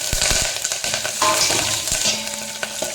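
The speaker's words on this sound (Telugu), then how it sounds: "ఈ రకంగా పోపు వేగిపోయాక అల్లం, పచ్చిమిరపకాయలు, కరివేపాకు వేస్తున్నాను" Ginger, green chilies and curry leaves drop into hot tempering oil and crackle loudly, with a bright sizzle and short stirring scrapes throughout.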